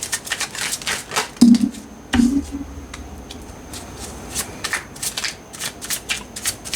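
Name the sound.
shuffling tarot cards to draw more cards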